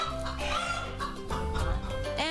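Several hens clucking and murmuring close by in a chicken coop, overlapping calls forming a steady, busy chatter with a rising squawk near the end.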